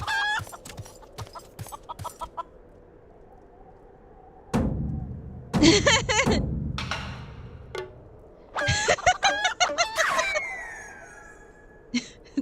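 Clucking from a chicken in Final Fantasy XIV, with rapid staccato clucks in several bursts between game effects and sweeping electronic tones, fairly loud and up close.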